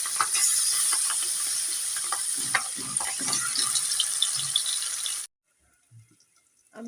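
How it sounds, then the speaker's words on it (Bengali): Pabda fish frying in hot oil in a wok, a steady loud sizzle with scattered crackles for about five seconds, then cutting off to near silence. "পাবদা মাছটা ভেজে দিচ্ছি।"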